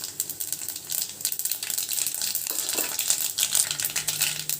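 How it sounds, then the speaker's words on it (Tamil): Mustard seeds and cumin crackling in hot oil in a kadai, a steady close sizzle with scattered sharp pops and small rattling spits throughout. "ஒரு கடாயில் எண்ணெய் ஊற்றி வச்சுருக்கேன் கொஞ்சம் கடுகு சீரகம் போட்டுக்கிறேன்"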